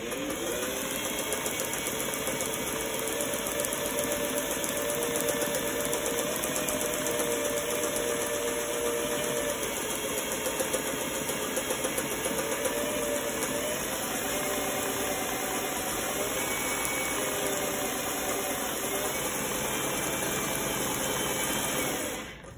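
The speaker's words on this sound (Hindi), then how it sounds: "मैंने ये गले पर सिलाई लगा ली है।" A sewing machine stitching a neck design onto buckram runs in a steady, fast, unbroken mechanical whir with a fine rhythmic ticking, close and alone for about twenty seconds before stopping.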